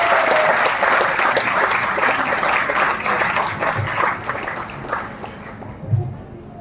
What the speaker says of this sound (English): Our boys of Class 1D are worthy of a huge applause for this engaging performance.